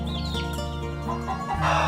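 Hens clucking and a rooster-like call over a steady low farmyard hum, with a busier burst of clucks near the end.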